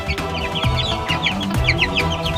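English Game chickens cluck repeatedly nearby, short clipped calls overlapping in a busy, uneven rhythm with some background rustle.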